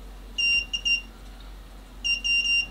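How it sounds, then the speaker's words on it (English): A wetted aquarium water leak alarm gives two bursts of shrill, high-pitched beeps, each a quick cluster of three or four chirps, moderately loud and close against quiet room hiss. "You should hear a beep."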